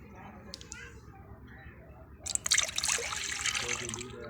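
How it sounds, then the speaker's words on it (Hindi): Milk poured into a pot while cooking, where water has already been added, in a Hindi-language home kitchen; a pouring, trickling liquid sound starts about halfway through and runs close to the microphone. "ए जी अब डाल रहा हूँ दूध।"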